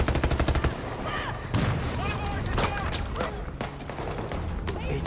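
Gunfire in the shooter game Battlefield 2042: a rapid automatic burst opens, then scattered shots, booms and impacts go on under an excited player's voice.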